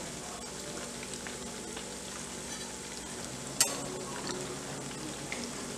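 Eggplant (brinjal) pakoras fry in hot oil with a steady, even sizzle and bubbling all the way through, and a single sharp pop near the middle.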